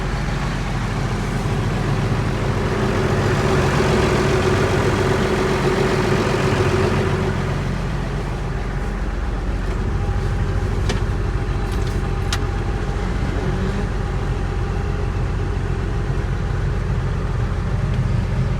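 A JCB Fastrac 2135 tractor with a 150 hp Perkins engine runs steadily nearby with a deep, continuous idle rumble that eases slightly partway through.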